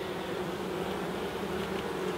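Honeybees hum in a steady, dense drone around an open UK hive with brood frames exposed, the buzzing close and continuous with no voices.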